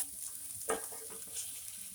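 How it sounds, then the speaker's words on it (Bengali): Ground masala spices fry in a pan for a meat dish, a soft steady sizzle with a brief scrape of stirring partway through, close and quiet. "এটা দিয়ে এবারে ভাজবো, এমনি করে আবার ভাজবো এটাকে"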